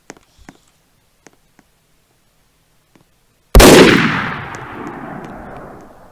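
Sniper rifle fired in a Roblox game: after a few faint clicks and taps, one loud close shot bursts out and its boom trails off slowly over a couple of seconds.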